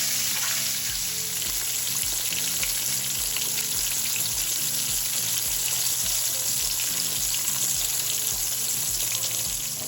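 Country fried steak fries in a pan with a loud, dense, continuous sizzle and crackle that holds steady throughout, with no voices over it.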